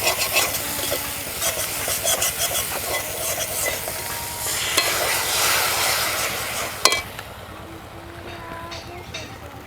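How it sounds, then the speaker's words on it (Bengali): Poppy seed paste curry being stirred in a pan, a dense, continuous wet scraping and low bubbling churn with a steady background hum, ending in a sharp knock before the sound thins out. "একটু গুলিয়ে নিচ্ছি।"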